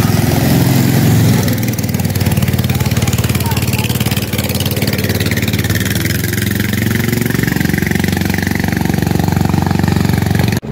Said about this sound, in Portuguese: E lá vem outra lancha pequena